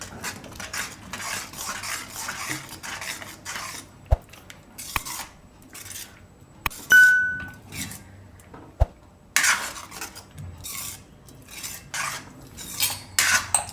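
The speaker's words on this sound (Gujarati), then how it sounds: "આને મિક્સ કરી લે હું આપણે પનીરને આની અંદર." Paneer being stirred into a masoor makhni curry in a pan, heard as a spoon scraping and clinking against the metal with scattered sharp taps and rubbing sounds, fairly close and with no talking.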